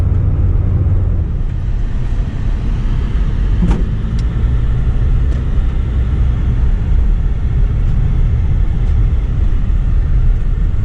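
A car drives along a road through an old industrial area, a loud continuous low rumble of engine and tyre noise heard from inside the car, steady throughout with occasional faint clicks and no talking.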